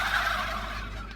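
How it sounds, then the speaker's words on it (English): A farm turkey gobbles loudly and close, one rapid warbling burst that fades toward the end, with no talking. "Whatever language turkeys speak, he knows it."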